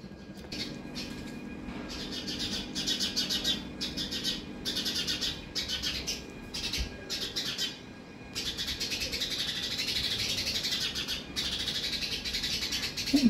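House sparrows chirp nonstop in a morning outdoor setting, a dense, continuous twittering of many small birds with steady energy and brief lulls, no talking over it.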